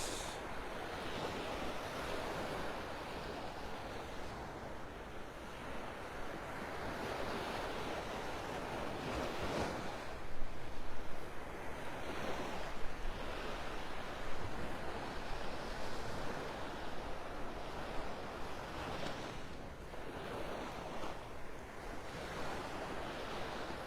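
Ocean surf rolls in steadily at Vanderbilt Beach in North Naples, Florida, a broad continuous wash of breaking waves with some wind rumble and a few louder crests.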